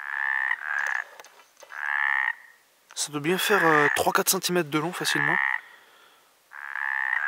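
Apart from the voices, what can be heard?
toads croaking at a pond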